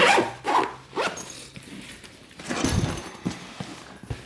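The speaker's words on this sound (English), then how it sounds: "So you zip this up." A zipper runs along a barber's travel gear bag in several rough, scratchy pulls separated by pauses and handling noise, fairly close and loud.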